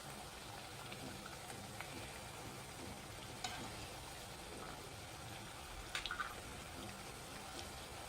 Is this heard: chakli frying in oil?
yes